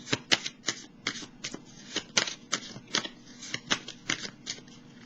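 Tarot cards being shuffled and drawn by hand, with a quick series of crisp riffling flicks and soft slaps at an uneven rhythm, close and clear with no talking.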